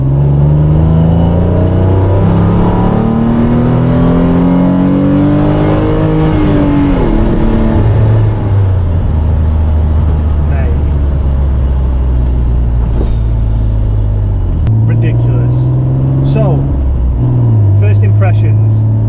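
A Renault Clio engine revs and climbs through the gears, dropping and rising again, loud and close with a voice talking over it.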